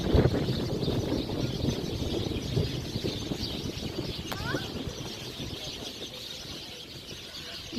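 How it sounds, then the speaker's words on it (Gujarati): Birds calling in a temple garden, with one brief chirp standing out faintly against a steady outdoor background and low voices. "જો કેવો પક્ષીઓનો અવાજ નેચરલ"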